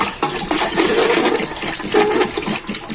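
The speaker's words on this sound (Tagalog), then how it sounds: "Manguha tayo ng tubig para sa pansit natin." Rushing water pours steadily into a container, a continuous gurgling splash with slight rising tones as it fills, close and fairly loud.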